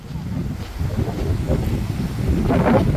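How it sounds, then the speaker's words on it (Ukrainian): Steady wind in British Columbia, Canada, buffets the microphone with a low rumbling roar that swells slightly toward the end. "Вітер щось сьогодні, але вітер не з океану"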